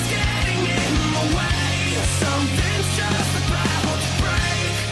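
Dense, loud rock music with distorted guitars and pounding drums fills the short excerpt continuously, with no talking over it.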